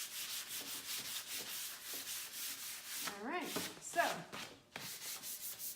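Hand sanding pad rubbing over painted furniture, a series of rhythmic scratchy strokes, close and fairly quiet, briefly interrupted midway by someone speaking before the rubbing resumes.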